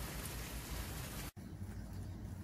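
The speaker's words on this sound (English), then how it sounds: "It's raining." Rain falls on a DAC tent pitched on a pickup truck with the tailgate out, a dense, steady patter close by that cuts abruptly and resumes more softly.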